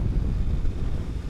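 Strong wind roaring across a rider on a CBR300R motorcycle on the highway, a dense low buffeting rush that fills the whole brief moment without pause.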